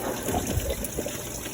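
Coolant drains into a pan under a 2005–2010 Scion tC during water pump replacement, a continuous nearby trickling and gushing of liquid with a faint background hum.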